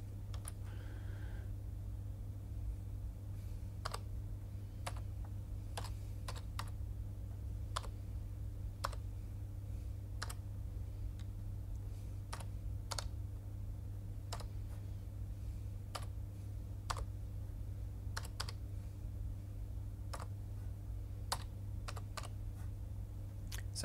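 Keys clicking on a computer keyboard as a product code is entered on a PC, sparse, evenly spaced keystrokes over a steady low hum, quiet and close.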